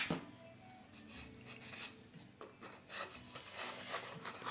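A chalk inker is dragged along the edges of a round wooden box, giving soft, close scraping and rubbing strokes in an uneven rhythm, quiet and with no one speaking.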